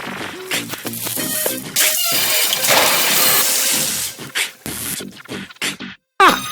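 Sputtering, crashing engine noise from a machine with sugar in its fuel tank in the Deponia adventure game, a loud run of rattling, splashing bursts that breaks into choppy stutters before cutting out.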